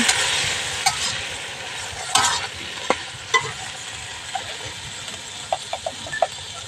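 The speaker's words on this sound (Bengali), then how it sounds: "এখানে আমি দুটো তেজপাতা নিয়েছি, ভালো করে নেড়ে ছেড়ে নেব।" Boiled ingredients and two bay leaves being stirred in a pan, heard as a steady soft hiss with scattered scrapes and light knocks of the spoon at irregular intervals, close by, with no voices.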